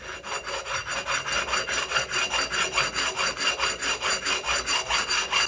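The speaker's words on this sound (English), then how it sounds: "I'm just using the coarse side of the stone." Steady back-and-forth rubbing of a coarse sharpening stone against a metal part from a Case 680CK backhoe during repair, about four even strokes per second, close and loud with no talking.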